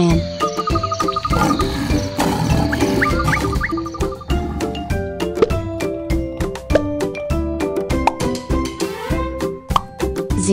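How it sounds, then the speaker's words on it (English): A lion roars, as part of toy-animal play naming wild animals, heard over busy music-like tones with repeated sharp accents. "Lion."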